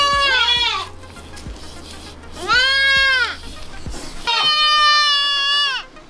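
A baby goat bleats three times, loud and close: long wavering cries separated by brief pauses, with faint clicks and handling noise underneath.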